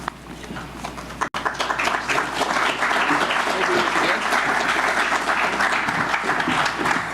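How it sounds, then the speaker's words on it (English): An audience at a university press conference introducing a new baseball coach gives applause, a dense, moderately loud patter of clapping that continues steadily after a brief gap near the start. "Thank you for that golf clap."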